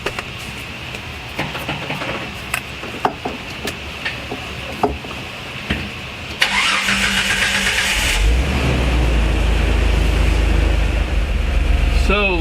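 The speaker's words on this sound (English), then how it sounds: "So now I'm going to go ahead and start the Jeep up" A Jeep's engine cranks and catches after an Evap system repair, settling into a steady loud idle after a few seconds of quieter clicks and background noise.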